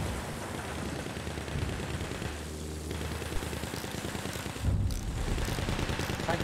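Battlefield 1 machine gun fire rattles as a dense, continuous stream of rapid shots, moderately loud and steady throughout, with a heavier low burst near the end.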